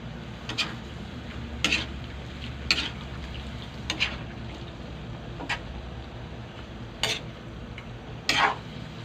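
Beef chop suey stir-fried in a pan: a steady low sizzle runs throughout, broken by sharp metallic scrapes and clinks of a utensil against the pan every second or two.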